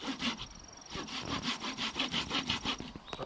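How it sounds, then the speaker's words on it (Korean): A hand saw cuts through wood in quick, even back-and-forth strokes, each rasping pass clearly audible and close, about a dozen strokes in a steady rhythm. "자, 톱질 해봐요."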